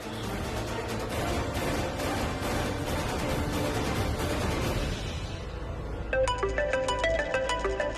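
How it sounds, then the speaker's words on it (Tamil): A phone ringtone for an incoming call starts about six seconds in, a bright repeating electronic melody that cuts in loudly over a busy musical background. "பூரா கிட்ட இருந்து போன் வந்திருக்கு"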